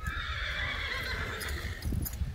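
A horse walked on a surface at a Lexington yearling sale, hooves clip-clopping in a steady pattern amid a loud, roomy crowd and arena hum, with a brief whinny-like tone.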